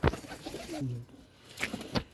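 A home-bred cross pigeon on a rooftop loft gives a short, soft coo, with a couple of faint rustling knocks before and after. The coo is close and brief, with no talking over it.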